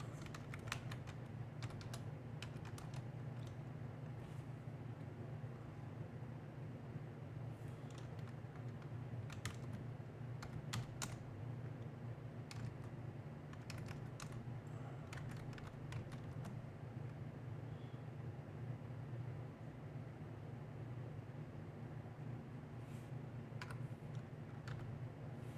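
Quiet, steady typing on a computer keyboard at a Linux terminal, scattered key clicks in irregular bursts over a low constant hum, with no talking.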